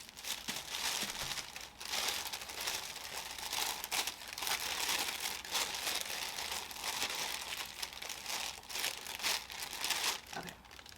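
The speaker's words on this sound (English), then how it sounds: "I'm going to go ahead and take the dust bag out this plastic bag." Continuous crinkling of a plastic bag as a handbag dust bag is taken out, close and busy, with rustling bursts and crackles as it is handled and pulled open.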